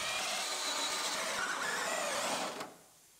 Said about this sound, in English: Drill out these